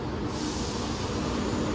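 A two-coach East Midlands Railway diesel train pulls into a platform at Stoke-on-Trent station, a continuous broadband rumble and hiss filling the brief stretch without pause.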